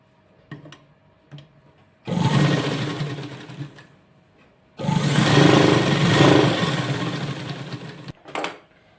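A sewing machine stitches a child's frock in two long whirring runs, each a few seconds long, with short taps and ticks of the machine between them, close and fairly quiet.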